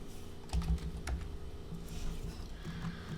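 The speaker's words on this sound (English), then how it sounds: "It looks like bad typing again." Rapid clicking on a computer keyboard, close and steady, with individual key strikes and a few heavier taps; no one speaks.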